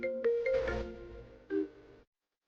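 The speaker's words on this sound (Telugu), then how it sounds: "రాజు నాకు ఫోన్ చేస్తున్నాడేంటి?" A phone rings with an incoming call, a short electronic tone pattern repeating twice within two seconds, fairly quiet and close, with no talk over it.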